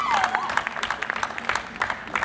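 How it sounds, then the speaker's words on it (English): An audience at a corporate dinner claps in a dense, steady round of applause from nearby. The clapping runs throughout, with a voice over it at the start. "A round of applause."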